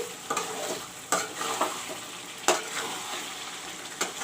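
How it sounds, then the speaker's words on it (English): Chicken frying in a pan with masala spices and yogurt, a soft background sizzle, punctuated by several scraping, clattering stirs at irregular intervals. "fry the chicken along with the masalas and the dahi"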